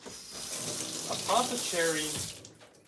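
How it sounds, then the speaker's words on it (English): Hydrogen water poured into a container in a kitchen, a steady splashing stream that rises in pitch as the vessel fills, close and fairly loud with no talk. "me put some hydrogen water in here."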